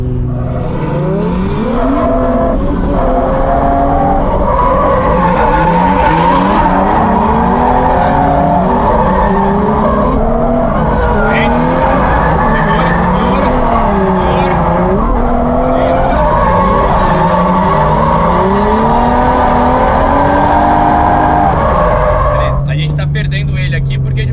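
A drift car at a training session, engine revving hard with sustained, wavering tire squeal as it slides, continuous and loud throughout, with someone talking over it.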